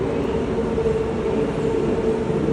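A train rumbles steadily with a constant low roar and a faint tonal hum, no voices.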